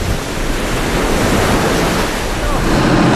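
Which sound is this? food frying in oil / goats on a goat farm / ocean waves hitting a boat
ocean waves hitting a boat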